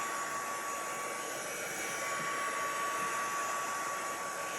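Ranger craft heat tool blowing hot air, a steady, even whooshing hum close up that holds without change, with a faint constant whine riding on top.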